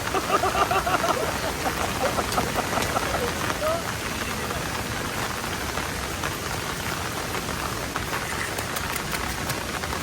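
Heavy rain drums continuously on a camping shelter in a downpour, a dense steady patter with individual drops ticking sharply over the top. A few voices murmur faintly near the start.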